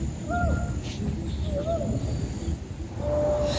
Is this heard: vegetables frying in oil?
no